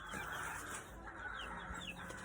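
Young cockerels and hens on an outdoor range cluck softly in scattered, overlapping calls, faint and close, with no voices.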